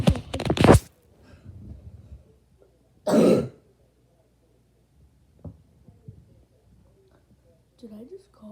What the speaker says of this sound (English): Did I just cough?